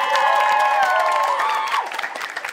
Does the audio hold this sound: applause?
yes